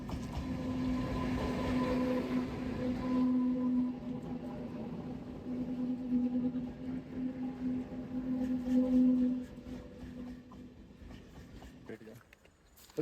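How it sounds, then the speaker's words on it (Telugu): A passenger train on the Araku line rumbles past close by, a steady rolling roar with a sustained horn-like tone that fades out toward the end. "ఇటు సైడ్ నుంచి రాబోతుంది ట్రైన్"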